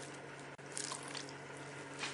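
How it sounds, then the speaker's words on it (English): Water is poured gradually into a crumbly flour and margarine mixture for roti dough, a steady soft trickle with light splashing over a faint background hum, close and quiet. "now I'm going to start adding in the water gradually."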